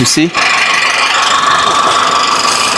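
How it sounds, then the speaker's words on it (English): A 2019 IVM Forthing G5T Turbo engine idles with a steady, loud mechanical drone and faint ticking. A brief voice is heard at the very start. "The engine is idling well, no faults, no emission problem anymore."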